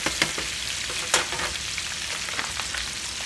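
Bacon-wrapped pork tenderloin searing in a pan, a continuous close sizzle and crackle with a few sharp pops and spatters along the way.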